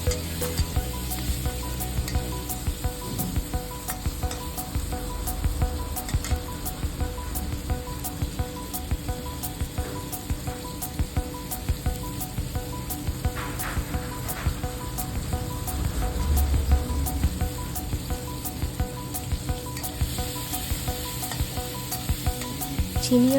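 Tomatoes and green chilli fry in a pan with a little salt and sugar, giving a steady, close sizzle that runs unbroken for the whole stretch, with faint clinks and stirring scrapes and no talk.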